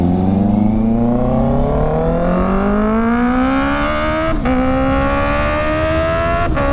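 Honda CB650R motorcycle fitted with an Austin Racing loop exhaust, revving loudly and steadily climbing in pitch over several seconds, with two brief dips as the throttle blips, close to the microphone.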